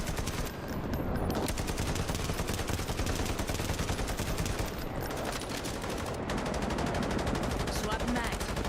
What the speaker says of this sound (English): just missing all the shots with his SMG